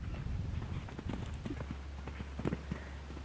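A horse canters with long strides, its hooves thudding in an uneven rhythm over a low background rumble, moderately distant and fairly soft.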